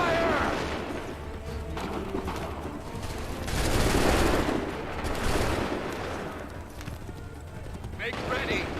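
Muskets fire in volleys in Assassin's Creed III, with rattling gunfire and booming shots mixed with clopping horse hooves and shouted voices, loud and chaotic, swelling in bursts across the scene.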